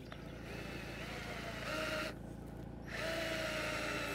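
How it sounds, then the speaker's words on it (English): A power drill drives a screw into the timber post of a 9-inch raised bed, a quiet, steady motor whir that rises in pitch in two short bursts. "screwing approximately into the center of the post"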